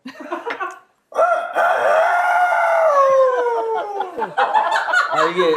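A man imitates a rooster crowing with a long, loud, drawn-out wavering call that falls in pitch, following a brief burst of speech, close to the listener.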